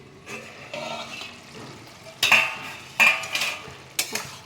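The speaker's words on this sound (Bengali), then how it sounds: "আমি এবার একবার চাপাটা খুলে দেখি" A lid is lifted off a pot of fish-head and khero curry, with metallic clinks and scrapes of cookware followed by bubbling, close and fairly loud with no talking.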